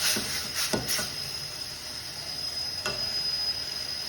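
A frying mixture is stirred in a pan over a steady, loud sizzle and hiss, with a few scraping strokes near the start and another midway, and no one speaking.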